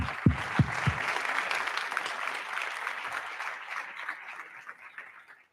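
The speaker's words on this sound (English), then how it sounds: "So please, and a round of applause for them." An audience applauds speakers at a Data Beers evening talk event, steady dense clapping from a crowd with a few sharp close claps at the start, gradually thinning toward the end.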